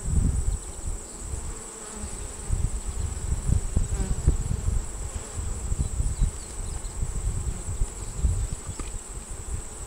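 Honey bees swarm and buzz around an opened hive during an inspection of a hive enlarged from five to ten frames, a dense, steady close drone with a few louder passes near the microphone and no talk.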